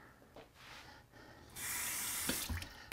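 Food is rinsed under a running kitchen tap, starting with faint splashes and then a strong, steady gush of water spraying into the sink for the second half.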